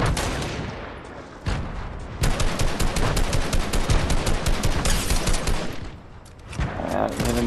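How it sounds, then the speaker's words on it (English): Dense, continuous bursts of gunfire and grenade explosions in a Fortnite battle, loud rapid rattling shots with heavy blasts, a short lull, then more firing. "Throwing grenades!"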